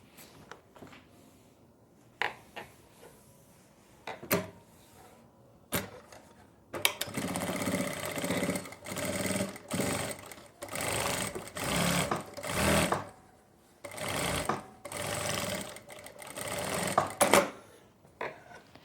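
Sewing machine stitching a palazzo pant, heard close as a series of bursts of rapid mechanical whirring, first short isolated runs and then longer stitching runs with brief pauses between them.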